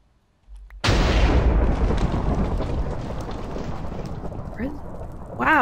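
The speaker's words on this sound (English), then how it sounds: "Another explosion." Explosion in modded Minecraft: a sudden loud boom followed by several seconds of crackling, rumbling debris that slowly fades, with a few small popping sounds near the end and no speech over it.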